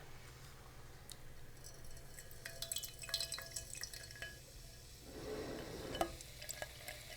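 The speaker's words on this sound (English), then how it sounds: "we'll do a little ASMR pour" A sparkling drink is poured into a glass, a quiet fizzing crackle of bubbles with faint drips and clinks, building toward a soft gush near the end, close and gentle.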